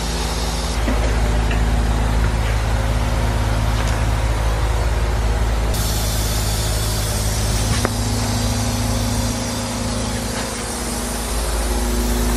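Air escapes from a leaking tire bead on a 185 tire fitted to a 10.5J wheel, producing a steady, broadband hiss that runs close and loud for the whole stretch with only a slight shift partway through, no voices.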